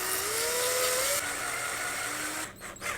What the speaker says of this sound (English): Now you're going to use the larger drill bit. We're not going to drill all the way through to the end.